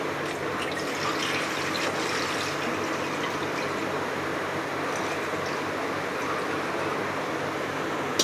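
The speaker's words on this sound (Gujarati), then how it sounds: "તપેલા પર એમાં પાણી નાખશું" Water pours steadily into a cooking pot for khichu, a continuous close splashing stream that holds at an even level from start to finish with no voices over it.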